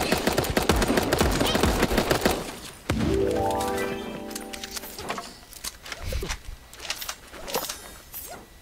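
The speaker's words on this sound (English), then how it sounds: "Oh, the shotgun is a joke." Shotgun fire in the cartoon battle royale Super Animal Royale: rapid, sharp cracking shots in bursts, followed by a ringing tonal game effect and scattered further impacts, fairly close and loud.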